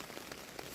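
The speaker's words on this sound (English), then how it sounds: "it wasn't supposed to come in this early, the rain" Heavy rain falling on a tarp tent pitched in the woods, a dense steady patter of drops drumming on the fabric overhead, close and continuous with no talking.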